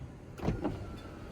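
A truck's power window motor grinding on a rainy day in a shop, two short whirring-grinding pulses close together, fairly quiet and up close, with no talking.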